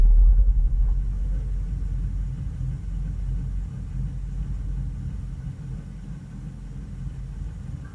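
An old Dodge engine that sat for years, running on very old gas in cold temperatures, a low steady rumbling idle that starts stronger and settles into an even drone.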